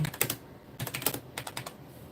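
Fingers type on a computer keyboard in quick irregular bursts of clicky keystrokes, a cluster at the start, a pause, then another flurry, close and clear with no talking.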